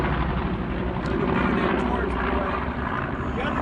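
Loud, steady propeller drone of a B-25 bomber flying overhead, a broad continuous roar filling the whole moment with a faint voice mixed underneath.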